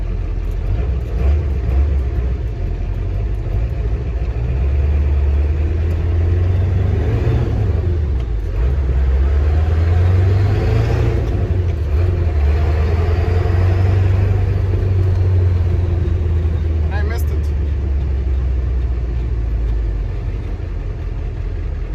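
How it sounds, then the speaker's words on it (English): A 1996 Ford F350 dually with the 7.3 Powerstroke diesel drives along with a deep, steady rumble that swells and eases through gentle acceleration, heard from inside the cab with no talking. "Okay, so we can take it for a drive around the block."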